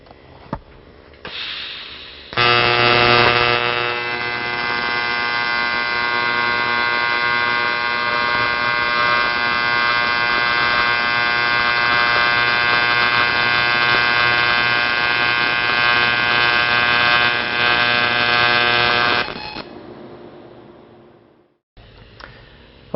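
A TIG welding arc buzzes in one steady, even tone for about seventeen seconds, with a small toy fan blowing across the shielding gas and a soft background hiss before and after.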